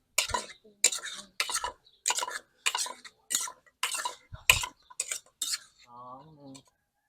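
Shredded papaya is pounded for papaya salad, making a steady rhythm of about a dozen sharp knocks and clatters, followed by a brief voice at the end.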